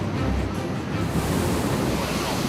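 An unusually large set of ocean waves surges and crashes on a beach where a small group is taking photos, a loud continuous roar of surf with heavy wind noise buffeting the microphone.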